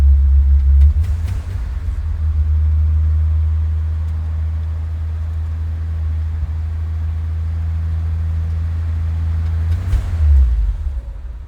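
A 1956 Willys Overland pickup engine holds a steady low rumbling high idle after a cold start, close and continuous, with a slight surge near the end.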